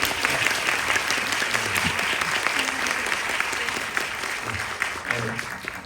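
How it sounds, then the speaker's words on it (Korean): Applause from a film audience at a guest-visit screening of Shoplifters, honouring director Kore-eda Hirokazu: steady, crowded clapping running throughout, with a few voices faintly underneath. "위대한 예술가 고레다 히로카즈 감독님에게 박수 한번 우리"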